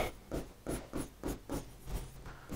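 Pen scratching across paper while writing notes, a quiet rhythmic series of short strokes repeating about every quarter second, close and soft.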